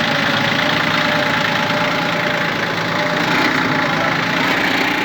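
A Yanmar F15D mini tractor engine idling with a dense, steady mechanical rumble and knocking chug, loud and close, continuous throughout without speech.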